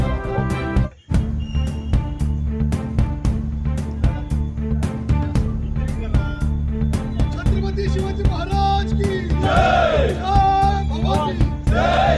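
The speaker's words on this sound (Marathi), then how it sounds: "आज युवा सेनेचा जल्लोष बघायला मिळतोय" Yuva Sena supporters celebrate a Mumbai senate election win in Chiplun, a crowd cheering and shouting over sharp regular beats like drums or claps, with voices growing louder toward the end.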